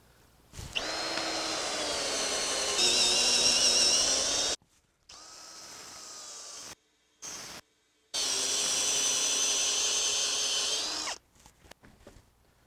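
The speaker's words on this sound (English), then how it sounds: "I'd like to drill and put some pegs in." A power drill whines loudly drilling holes in timber in two long bursts with a short pause and brief stop between them, the pitch shifting slightly as it bites.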